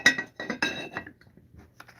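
Glass jar with its original glass lid clinking, several sharp bright taps and rattles of glass on glass in quick succession that fade into softer, lighter knocks, close by with no talking.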